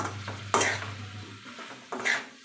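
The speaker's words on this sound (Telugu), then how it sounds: "పైకి కిందికి మంచిగా కలుపుకోవాలి" A cauliflower curry is stirred up and down in a pan, with two sharp scraping strokes of the spoon against the metal over a low steady sizzle and a faint hum.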